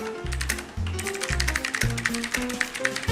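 Fast keyboard typing during an online typing race, dense rapid clicking that runs continuously over low, pulsing background music, with no voices.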